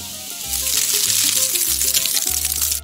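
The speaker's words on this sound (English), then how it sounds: "Your pan has to be smoking hot when you do stir fry." Beef stir-frying in a smoking-hot pan with oil and butter, a loud, close, continuous sizzle that surges in after a brief quieter start and holds steady.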